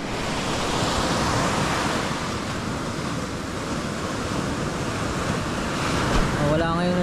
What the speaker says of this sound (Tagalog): Parang galit na naman yung alon.